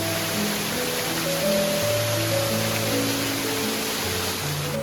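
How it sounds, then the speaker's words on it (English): Waterfall tumbling into a gill on the Gunnerside walk in the Yorkshire Dales, a steady, full rushing roar of water heard close by, continuous and unbroken with no voices. "There's a lovely waterfall at the back there."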